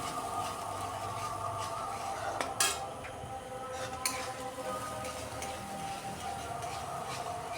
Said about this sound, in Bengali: এবার ভালো করে কষিয়ে নিচ্ছি।